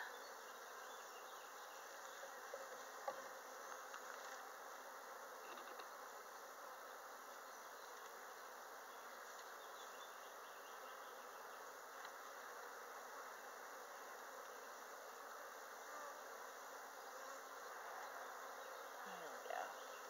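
Honey bees buzz at an open hive being worked, a dense, continuous hum of many insects filling the background, steady and moderately close, with faint handling knocks and a voice occasionally beneath it.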